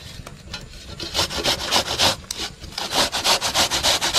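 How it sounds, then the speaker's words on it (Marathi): Cucumber being grated on a handheld kitchen grater, with steady rhythmic rasping strokes that grow faster and stronger, close and alone with no talk. "आता आपण काकडी किसून घेऊया ही बघा अशी किसणी"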